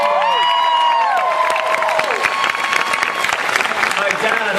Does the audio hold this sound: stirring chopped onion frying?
no